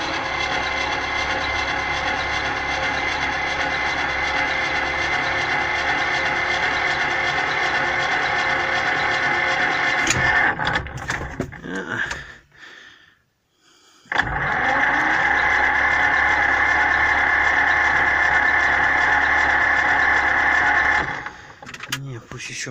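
A T-25 tractor engine is cranked in two long, loud, steady whirring bursts separated by a brief silence, close by, with no clear sign of it catching.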